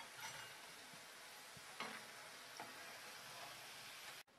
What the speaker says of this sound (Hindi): इसी तरीके से हम सारे वड़े तल के तैयार करेंगे